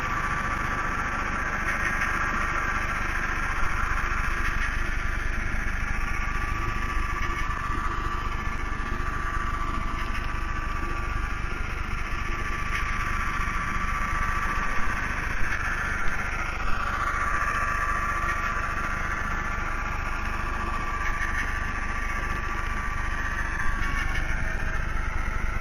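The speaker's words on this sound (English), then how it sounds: "The engine is just notched down a couple of notches as we're now on the flat" Locomotive engine notched down a couple of notches while running on flat track toward Great Falls Station, a steady droning rumble with a faint squeal of wheels, continuous and fairly close for the whole stretch.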